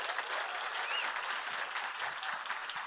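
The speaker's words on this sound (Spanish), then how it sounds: "desen un aplauso ustedes, por favor" A church congregation at a Sunday service claps in a steady, even round of applause, a dense wash of many hands at moderate volume lasting the full stretch, with no voices over it.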